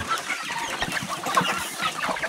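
Chickens at a farm cluck and chatter steadily together at feeding time, close and continuous, with no talk.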